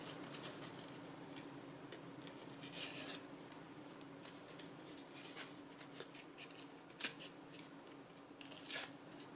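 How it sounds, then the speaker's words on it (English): Material being ripped by hand along its edge while texturing a canvas: a continuous close, dry tearing and rubbing rasp with a few sharper louder bursts, no voices. "So I will rip along that edge so that it's a little bit less perfect."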